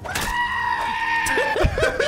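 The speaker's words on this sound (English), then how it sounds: "These goats are scary." Goat in the Skyrim VR video game lets out a long, loud, wavering scream-like bleat, then several shorter bleats trailing off, close and dominant with no speech over it.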